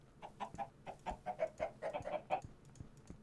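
Minecraft chickens clucking in a quick, uneven series of short, fairly quiet clucks, several overlapping in the middle, with no voices.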